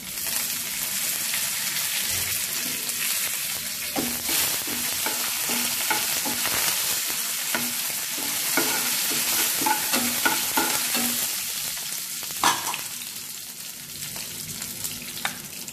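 Mustard seeds, dried red chilies and curry leaves fry in hot oil, a loud dense sizzle that stays steady throughout with small pops and the scrape of stirring.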